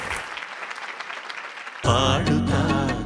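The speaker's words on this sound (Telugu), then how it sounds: "మా ఆర్కెస్ట్రా వాళ్ళకి ఒకసారి చప్పట్లు కొట్టరు" An audience at a televised singing competition bursts into applause for the orchestra, a loud sudden wave of clapping that breaks in partway through after a singer's voice and continues to the end.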